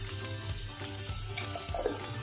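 Tomatoes with turmeric powder fry in a pan, making a soft, continuous sizzle close by, with faint stirring movement and no speech over it.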